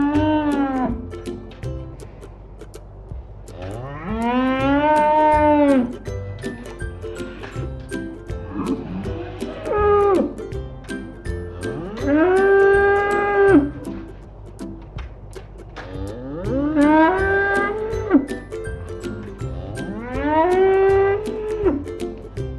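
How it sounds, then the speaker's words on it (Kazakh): A cow lowing in four long, drawn-out moos that rise and fall, loud and close, with short pauses between calls. "Сиыр мөңірейді."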